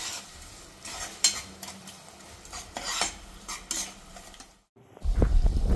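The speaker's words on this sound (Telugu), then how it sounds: "కొంచెం బాగా కలుపుకున్నాము." Masala vada curry being stirred in a cooking pan, with repeated scraping and clinking strokes at a steady pace, a short pause, then louder close stirring and sizzle toward the end.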